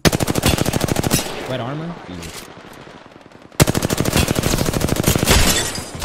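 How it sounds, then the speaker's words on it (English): Rapid automatic gunfire aimed at a Wraith in the battle royale game Apex Legends, loud fast bursts that stop for a couple of seconds while a player speaks briefly, then resume just as hard. "I'm gonna shoot the Wraith."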